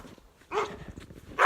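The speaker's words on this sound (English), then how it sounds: "I can hear dogs." Sled dogs in Gilpin County, Colorado give two short barks, one around mid-clip and a louder one at the end, close by over quiet background rustling.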